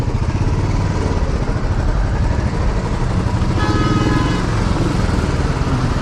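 A Hero Xpulse motorcycle idles in a queue at a toll plaza in western Uttar Pradesh, giving a loud, close, steady engine rumble with chugging low pulses and no speech over it.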